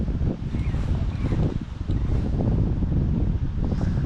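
Autumn wind while fishing for perch buffets the microphone in a steady low rumble, gusting constantly with no voices or other distinct sounds.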